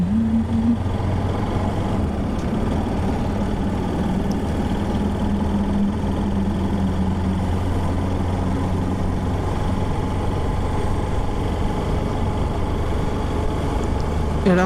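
Motorbike ridden steadily home along a road in cloudy weather, its engine droning at a constant loud level with steady road and wind rush and no break.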